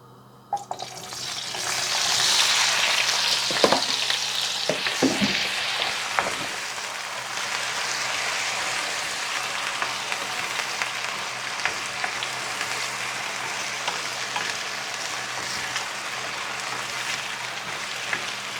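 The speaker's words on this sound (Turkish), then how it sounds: "Patates biraz kızarsın güzelce." Loud, steady sizzling of potatoes frying in hot olive oil in a pan, close up, with a few clinks and stirring scrapes early on before settling into a constant crackle.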